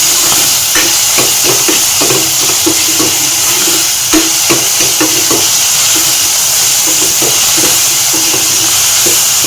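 Chopped small onions and tomatoes sauté loudly in a pan, a constant close sizzle with frequent spatula stirs and scrapes ticking through it, no voices.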